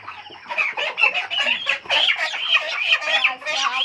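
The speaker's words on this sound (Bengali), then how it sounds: "এই মুরগিগুলো ধরছি" Chickens clucking and squawking excitedly while being caught by hand, a dense run of agitated calls close by.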